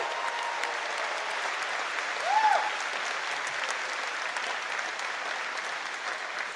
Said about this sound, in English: let's give these first-timers a huge round of applause and welcome.